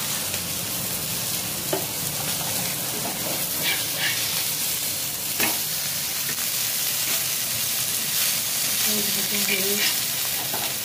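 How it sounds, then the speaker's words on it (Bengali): Fish, such as tangra or bhola, frying in a pan in a home kitchen: a steady, close sizzle and crackle runs throughout, with a few sharper spits and pops. "ভাজা তো হয়ে গেছে মাছ"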